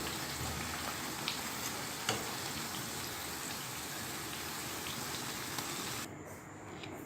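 Chicken donuts bubble and sizzle steadily in hot oil, a dense, even hiss with a few small pops, before the frying noise drops away abruptly near the end as they come out.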